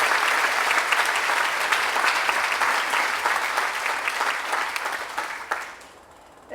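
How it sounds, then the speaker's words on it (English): An audience claps steadily and fairly loudly at a ceremony, a dense sustained round of applause that fades out near the end. "give her a big round of applause"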